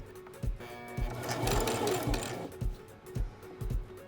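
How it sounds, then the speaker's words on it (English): A sewing machine runs a zigzag stitch at the corner of handmade string bikini bottoms, its needle chattering in short rhythmic bursts with brief pauses between runs, close and fairly quiet. "I'm gonna set to a zigzag stitch, which I'm already on right now."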